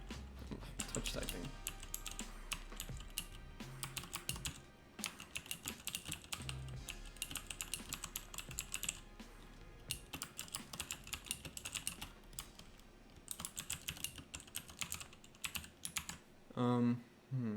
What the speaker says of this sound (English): Touch typing.